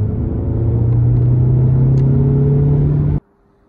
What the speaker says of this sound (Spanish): Y ahora yo estoy llegando a curva y voy a reducir.